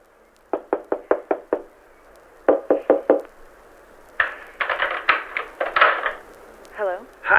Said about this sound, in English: Knock. Hope she's home.